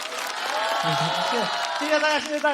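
Studio audience applauds at a televised stand-up comedy competition, a broad steady wash of clapping under a host's voice thanking the crowd.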